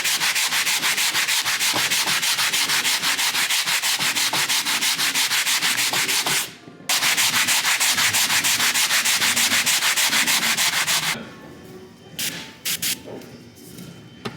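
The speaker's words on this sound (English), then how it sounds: "We're gonna sand it down." Rusty metal being sanded down during a refit: a loud, continuous abrasive rasp that runs steadily, breaks briefly around the midpoint, resumes, then gives way to quieter scattered handling sounds near the end.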